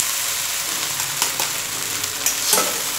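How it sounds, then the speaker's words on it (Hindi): Flattened rice flakes stirred into a hot pan while making poha, giving a steady sizzle with scraping stir strokes and a few louder clatters near the end, no talking. "उसके बाद में हम जो हमारे पोहे हैं वो डाल देंगे"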